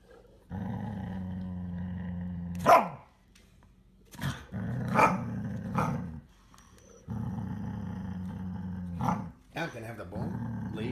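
A dog growls aggressively in long, deep rumbling stretches broken by sharp snarls and bark-like bursts, close and fairly loud, with pauses between the growls.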